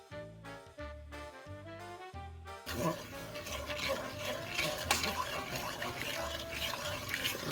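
Dark chocolate mixture with vanilla and raw honey being stirred, a steady scraping and swishing of a utensil in a bowl, close and continuous, following a short passage of background music at the start.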